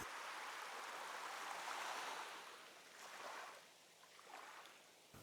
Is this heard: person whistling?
no